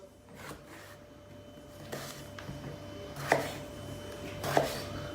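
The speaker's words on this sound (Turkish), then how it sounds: "Patlıcanları doğrarken elma dilimi doğrayacağız." A few quiet, sharp knife strikes on a cutting board as eggplant is sliced, spaced out, with faint kitchen background noise and a low hum.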